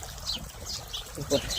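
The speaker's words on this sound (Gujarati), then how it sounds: "સાઈડ ચકલી બોલે છે" Faint sparrow chirps flicker in short high bursts beside a village farm field, mixed with trickling irrigation water and brief nearby voices.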